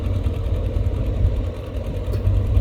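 A CAT 320GX excavator's 4,400 cc Perkins four-cylinder, four-stroke turbocharged diesel runs steadily, a low throbbing rumble with a fast regular pulse, close and continuous with no talk.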